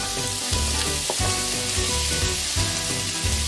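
Onions and orange and yellow bell peppers frying in a pan, a loud steady sizzle with rhythmic stirring scrapes about every half second, no talking.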